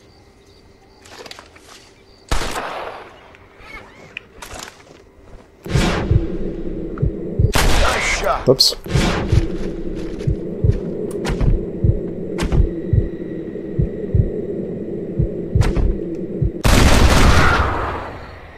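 Rifle shots ring out in a Red Dead Redemption bird-shooting challenge near Chuparosa: a few sharp, loud cracks spread apart, over a busy backdrop of rapid clicking transients and game ambience, with a brief spoken word.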